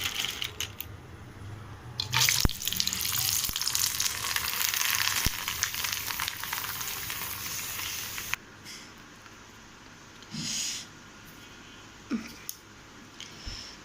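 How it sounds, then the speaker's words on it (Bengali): Potato chips deep-fry in hot oil with a loud, dense bubbling sizzle and sharp metallic clinks, then the frying drops to a quieter simmer with occasional scraping sounds. "এগুলো এখন ভাজবো তেলে।"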